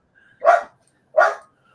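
A dog barking twice, two short sharp barks about a second apart, close and clear against silence.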